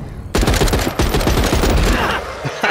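Sustained full-auto bursts from an AR-416 rifle in The Walking Dead: Saints & Sinners, a rapid, loud stream of gunshots that opens after a short quiet lead-in and keeps going to the end with only slight breaks.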